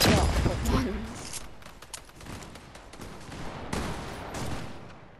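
Gunshots in the Fortnite video game, a burst of sharp, loud reports up front followed by scattered, quieter shots and game noise, fading toward the end.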